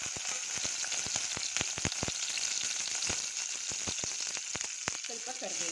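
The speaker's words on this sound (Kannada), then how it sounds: "1 ಟೊಮೊಟೊ, 1 ಸಣ್ಣ ಈರುಳ್ಳಿ, 1 4-5 ಹೆಸರು ಬೆಳ್ಳುಳ್ಳಿ ಇದನ್ನು ಹಾಕ್ಬಿಟ್ಟು ಬಾಡಿಸ್ಕೊಳ್ಳೋಣ." Tomato, a small onion and garlic cloves sizzle in two spoons of oil in a pot, a loud, constant hiss broken by frequent sharp clicks of a spoon stirring against the pot.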